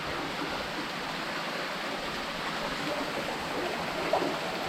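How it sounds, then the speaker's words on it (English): Water flowing inside a cave near the Tumpak Sewu waterfall, a steady, full rushing hiss that fills the space evenly without pause, no voices heard. "I could hear a lot of water on this side."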